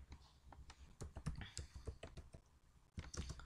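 Typing on a computer keyboard, a steady run of close, crisp key clicks at an uneven rhythm with a short pause before a final quick flurry.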